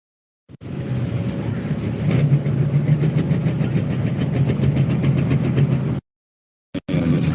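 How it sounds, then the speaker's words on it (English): A diesel pulling tractor at a truck and tractor pull roars loud and steady for several seconds with a throbbing engine drone, then cuts off abruptly. "Diesel tractor."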